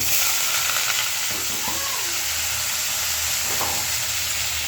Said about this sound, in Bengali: এই যে একটু কফি ভাজিটা দিয়ে দিলাম